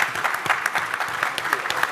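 Scattered, uneven clapping from a summit audience at a formal evening dinner, individual claps distinct and irregular rather than a full roar, lasting only a moment.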